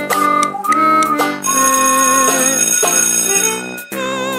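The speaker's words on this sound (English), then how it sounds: "that was the bell for recess and lunch" A school bell signals recess and lunch as a loud, electronic, melodic chime. It rings steadily and close for about four seconds, with no talking over it.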